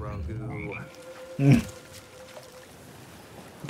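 A frog croaks once, briefly, as Grogu tries to eat it in The Book of Boba Fett, over a low murmur of background sound.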